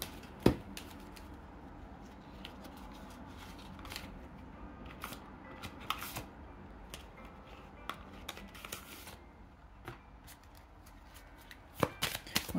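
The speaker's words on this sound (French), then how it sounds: "Je vais tirer des cartes de Romance Angel." Romance Angel oracle cards being shuffled and drawn, soft papery riffles and scattered sharp card snaps and taps across the stretch, close and fairly quiet, with no talking.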